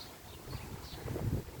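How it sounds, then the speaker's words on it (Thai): Dry wind blows outdoors in cold weather, a short, faint, rumbling gust buffeting the microphone with low fluttering noise and no voices. "ลมแห้ง"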